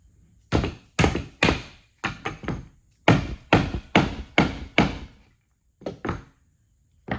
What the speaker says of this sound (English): And then you just pound it in with a dead blow hammer.